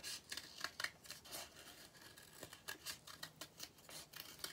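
Scissors cutting paper flower petals, a quiet run of close, rhythmic snips and crisp rustles of paper, faint and steady throughout.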